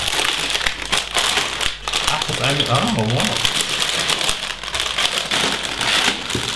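Plastic bags from a LEGO Lord of the Rings Black Gate set crinkle and rustle steadily while being unpacked, close and fairly loud, as someone speaks German over them.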